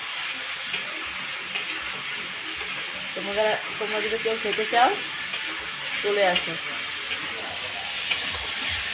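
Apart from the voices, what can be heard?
frying country chicken in a pan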